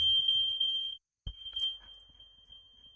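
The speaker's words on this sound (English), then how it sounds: "Ignore the smoke alarm." A kitchen heat detector shrieks in a continuous high-pitched tone, set off by mushrooms cooking. The tone cuts out briefly, then resumes steadily over low room rumble.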